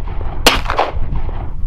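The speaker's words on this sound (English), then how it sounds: "Okay, couple shots here." A single loud, sharp .357 Magnum gunshot fired outdoors at a BulletSafe bulletproof vest, with a quick crack followed by a short echoing tail.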